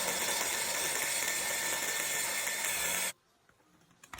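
A meat grinder churning chicken and carrots for homemade hotdogs, a loud steady motor whir with grinding texture for about three seconds before cutting off abruptly, leaving quiet room noise and a couple of faint knocks.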